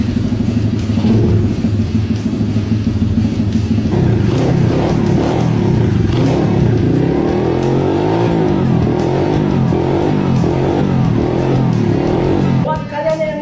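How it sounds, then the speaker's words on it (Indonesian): A KX 110cc four-stroke manual mini trail motorcycle engine revs loudly and continuously nearby, its steady buzzing drone rising and falling through the throttle before cutting off at the end. "Jadi satu unit mini trial 110 cc 4 tak tipe manual."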